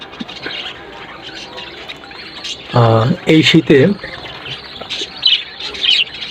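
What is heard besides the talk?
pet budgerigars chirping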